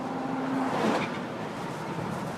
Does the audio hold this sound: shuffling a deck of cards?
no